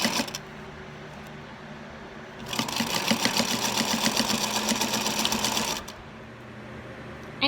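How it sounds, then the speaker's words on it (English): A sewing machine runs a long top stitch through several layers of fabric, a steady fast mechanical whirr lasting about three seconds between quieter pauses, with no talking. "I'm going to use a long stitch, so it'll be a nice top stitch."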